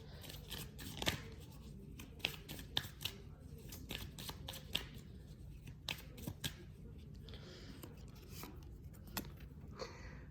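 Cards of a Fire and Ice Lenormand deck are shuffled in a quiet room, giving soft riffling and sharp slapping snaps at an irregular pace over a faint steady hiss.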